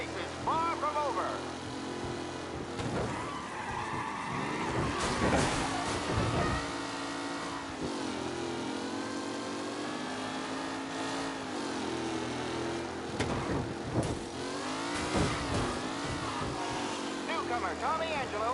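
Race cars in Mafia Definitive Edition roar steadily through a close-quarters race, engine tones rising and falling as they jostle, with commentator-style voices talking over the continuous motor noise.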